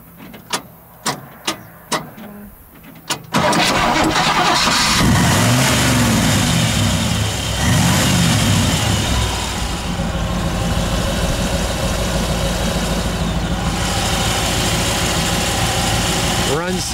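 A 1959 Chevrolet Impala convertible with a 348 cubic inch V8 and dual exhaust: a few sharp clicks, then the engine fires and settles into a loud, steady, smooth idle close by.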